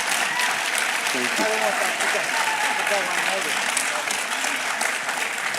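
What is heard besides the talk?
audience applause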